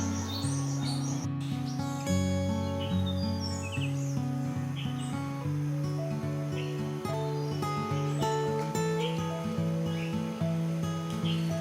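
Birds call and chirp repeatedly at a Sri Lankan bird sanctuary, their short bright notes scattered across the clip over a steady, sustained tonal background.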